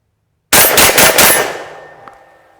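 A TriStar Viper G2 .410 bore semi-auto shotgun fires at targets: a rapid string of loud, close shots in under a second, then the report rings and decays away with a faint metallic clink.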